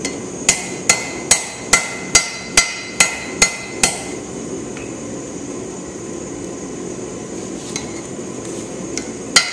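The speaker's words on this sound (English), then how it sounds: "Now get your little hammer, straighten it." A small hammer strikes a forged knife blade to straighten it at a forge, about ten sharp, ringing metallic blows in a quick even rhythm, close and loud, then a few fainter taps after a pause.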